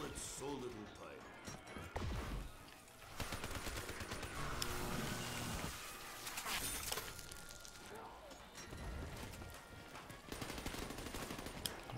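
Rapid gunfire at zombies in Call of Duty Black Ops 3 rattles in dense bursts, mixed with crashes and impacts, with people talking over the shooting.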